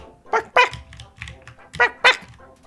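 A small Pomeranian-like dog barks in the Undertale video game, yapping in two close pairs of bright, high yips with small squeaks between, loud and near over a quiet background.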